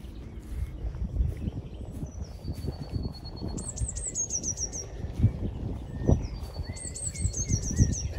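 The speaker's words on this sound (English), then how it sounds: "and you can hear the bird song." Birdsong drifts across a lakeside on a glorious afternoon, with repeated bright chirping phrases and trills rising over a low rumbling background of wind and movement, no talking.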